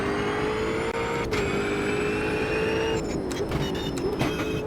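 Ultima race car engine in the Automobilista 2 racing game, a loud steady high-pitched drone with slight pitch shifts and brief gear-change dips, heard from inside the car without talk.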